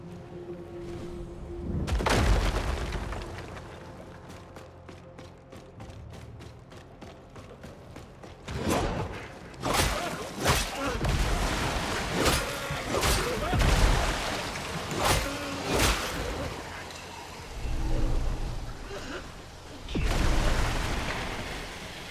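Explosions erupt in a Mortal Shell 2 fortress, with a cluster of loud, booming blasts and crackling bursts going off in quick succession over several seconds after a quieter stretch.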